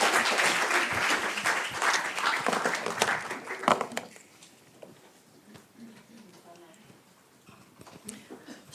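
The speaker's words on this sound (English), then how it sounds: "a round of applause for our speakers" Audience applauds speakers at a conference session on democracy and the rule of law in Europe, a dense burst of clapping for about four seconds that thins to scattered claps and room noise.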